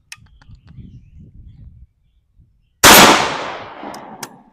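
A 24 gauge shotgun fires a #3 bismuth buckshot load outdoors: a single loud, sharp blast with a long decaying echo, preceded by quiet rustling and followed by a faint click.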